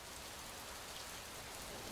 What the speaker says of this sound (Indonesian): Dan hujan pun mulai turun.